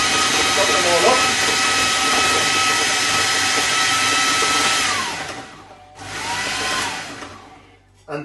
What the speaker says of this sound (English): chop them all up